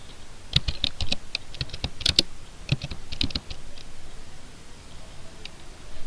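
Typing on a computer keyboard: a close, crisp run of clicking keystrokes in quick uneven bursts, then a quieter stretch with only a few taps.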